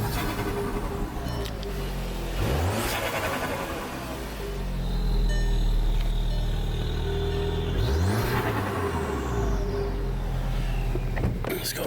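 A Volkswagen MK6 GLI engine idling with a steady low rumble, then revving up twice and falling back, the revs rising and falling in smooth sweeps, close and loud, with no talking.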